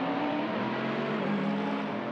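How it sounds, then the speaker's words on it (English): A Mercedes-AMG GT3 race car with a V8 engine revs out of a hairpin at the Hockenheimring. The engine note is a loud, steady, full-bodied drone held for the whole stretch. "As he revs out of the hairpin, very nice and fat sound of the Mercedes AMG."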